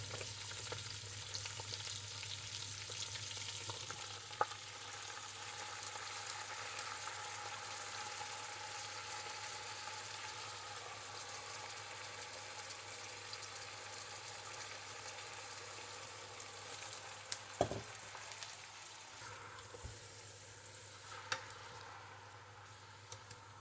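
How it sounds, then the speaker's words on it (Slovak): Sauerkraut frying in a pot for a hearty home-cooked Moravian lunch, a steady close sizzle running throughout with occasional stirring clinks and scrapes, no talking. "A teraz môžem pridať do hrnca kyslú kapustu."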